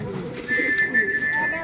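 Racing pigeons cooing softly at close range in a loft, a few low rounded coos over a faint steady whistle-like tone, with light background noise.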